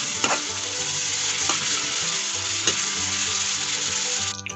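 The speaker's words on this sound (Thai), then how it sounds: "ผมจะรวนหมูก่อนนะทุกคน ให้สุกก่อนนะเ" Pork belly sizzles steadily in a hot pan as it is stir-fried for a Thai red curry with morning glory, with a few sharper stirring scrapes breaking through the continuous frying hiss.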